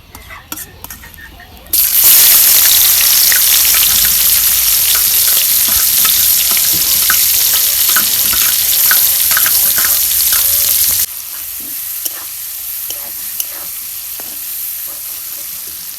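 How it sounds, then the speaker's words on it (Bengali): Sliced onions frying in hot oil for chicken pulao: a loud, dense sizzle starts abruptly after a quiet moment, runs steadily for about nine seconds, then drops to a faint crackle. "আমি পেঁয়াজগুলো প্রথমে ভেজে নিব"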